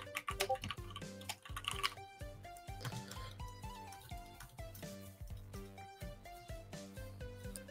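Fast, irregular typing on a computer keyboard during a live stream, with a rapid run of close, crisp key clicks over background game music.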